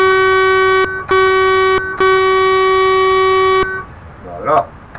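In Euro Truck Simulator 2, a Renault truck's air horn blares in three loud, sustained tonal blasts separated by brief gaps, the last one longest, followed by a short burst of speech once the horn stops.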